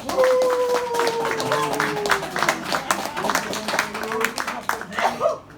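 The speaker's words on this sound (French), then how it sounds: "que l'on peut applaudir très fort" An audience at a French stage show applauds with scattered, moderately loud claps while a tonal whistle or voice-like sound glides underneath and a voice speaks briefly near the end.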